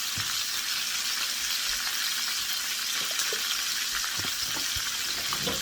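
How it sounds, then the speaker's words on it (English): Onions frying in a pan give a steady, close sizzle with occasional clinks and scrapes as they are stirred, and no voices over it. "Now stir it up because the moisture from the onions are going to release."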